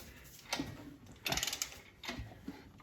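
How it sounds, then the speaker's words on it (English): Crankshaft of a damaged Subaru Legacy GT engine being turned by hand, giving a few faint, irregular mechanical clicks and clunks separated by quiet gaps. "we're going to turn the crank here and see if these pistons both move"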